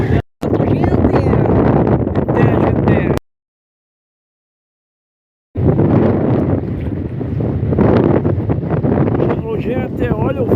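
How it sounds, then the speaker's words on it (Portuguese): Strong northeast wind at a beach in Laguna, roaring and buffeting the microphone in loud sustained gusts, cut by a few seconds of silence, with a voice talking through it. "Gente, olha o vento que tá aqui, gente."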